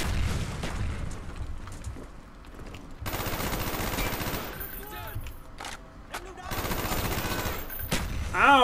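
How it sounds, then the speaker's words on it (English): A grenade blast in Call of Duty: Black Ops bot survival mode bursts amid rapid automatic gunfire and repeated booms, loud and close, with a brief talking voice over the chaotic firefight. "He chucked a grenade at my face."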